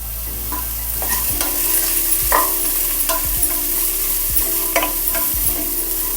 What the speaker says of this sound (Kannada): ಇವಾಗ ನಾನು ಕಟ್ ಮಾಡಿ ಇಟ್ಕೊಂಡಿದ್ದೀನಲ್ಲ ಆ ಟೊಮೆಟೊನ ಹಾಕ್ಕೊತಾ ಇದ್ದೀನಿ